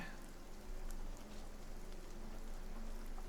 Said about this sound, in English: Over here is Pixel Rain.